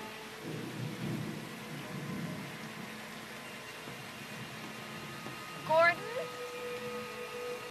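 Thunder rumbles over steady pouring rain during a storm scene in a Friday the 13th film, a faint wash of rain with a low rumble and a brief sharper burst near the end, under talking.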